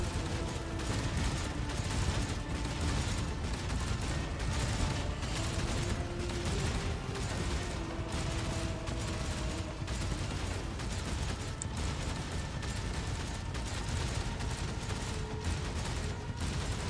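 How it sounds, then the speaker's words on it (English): Video game gunfire: dense, continuous rattling bursts of rapid fire with a metallic, mechanical edge, sustained and fairly loud throughout, with no clear screams standing out. "The box transmits the sounds of gunfire and death screams."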